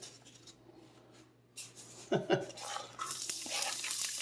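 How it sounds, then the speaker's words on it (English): A sudden clatter as something drops into a hot pot, followed by a loud, steady sizzle of onion frying. "We are going to toss in our onion."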